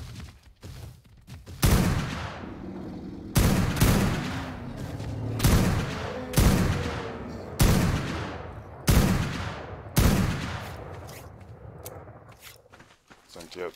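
Seven heavy sniper rifle shots ring out in a video game, each a sharp loud crack with a long echoing tail, spaced roughly two seconds apart with faint handling clicks between them.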